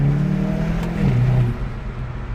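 A 2022 Hyundai i30N facelift hatchback with 8-speed DCT revs in manual mode, a mid-pitched engine note rising and then dropping as it shifts, heard from inside the cabin with no talk.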